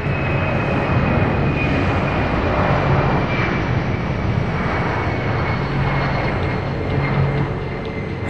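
A Royal Australian Air Force C-17 transport aircraft roars with a loud, steady engine rumble and a thin high whine, close and unbroken for about eight seconds, with no one talking.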